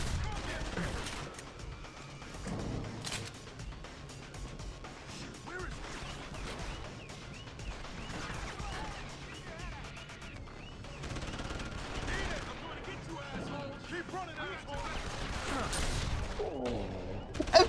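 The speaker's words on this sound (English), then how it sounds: "How can I miss with a shotgun?" Shotgun blasts and other gunfire in Deus Ex: Human Revolution fill a long stretch of combat, with repeated sharp shots and busy crashes at moderate volume, partly under a voice.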